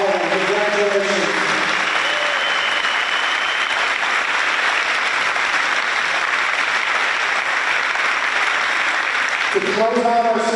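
An Awards Night crowd applauds the winners, steady clapping filling the hall for several seconds, with a voice speaking briefly at the start and again as the applause ends.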